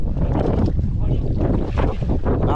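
Strong wind buffets the microphone by a river during a fishing outing with nets, a steady, loud, rumbling roar that fills the whole stretch and drowns out any other sound.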